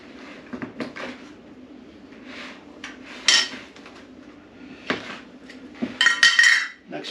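Salted zucchini slices are tossed in a bowl, giving intermittent soft shuffling and clinking knocks of a utensil against the dish, close and irregular, with a few brighter clinks.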